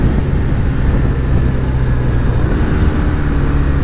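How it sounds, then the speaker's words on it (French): A BMW R1250R boxer twin motorcycle engine braking, a loud, steady low rumble with road and wind noise, continuous and close with no talk over it. "Regardez le frein moteur, on fait tout au frein moteur."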